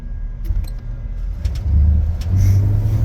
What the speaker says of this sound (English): Wait for this car.